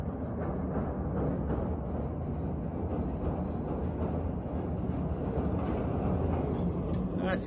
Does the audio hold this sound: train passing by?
yes